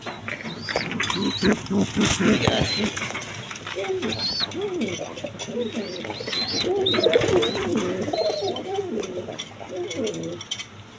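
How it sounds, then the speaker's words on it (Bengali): Several domestic pigeons coo continuously in low, throaty warbles, a busy chorus filling the space with rustling and occasional flutters. "একদম সুস্থ সবল কবুতর"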